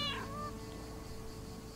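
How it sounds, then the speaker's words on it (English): Cats meowing in the video game Lake, with one sharp, close meow at the start that trails into a steady ambient hum with faint background sounds. "And her cats, of course."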